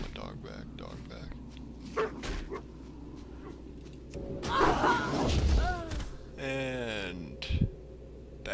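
A pet dog in World of Warcraft yips and barks in short bursts, and a slam and a whimper come between them, with a low continuous game ambience underneath.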